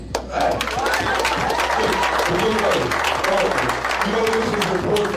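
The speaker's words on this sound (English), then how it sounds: "Can I get a hand clap?" Studio audience applause on a boxing talk show, a dense, steady wash of clapping that fills the whole stretch at close, even loudness, with talk faintly mixed in underneath.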